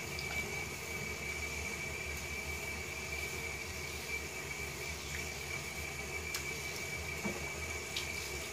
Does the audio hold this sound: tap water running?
yes